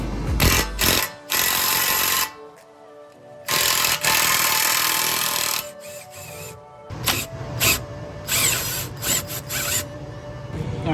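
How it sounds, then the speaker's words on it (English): A Snap-on impact gun removes bolts while a 9th-gen Civic gets new rear camber arms. Loud rattling bursts of hammering, each lasting one to two seconds, are broken by short pauses, close up with no talk. "I'm using a breaker bar, then I'm gonna use the snap-on impact gun."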